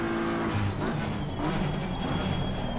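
A car engine in a racing video game driven with a PXN V10 steering wheel drones steadily throughout, its pitch rising and falling gently with throttle, at a constant loud level.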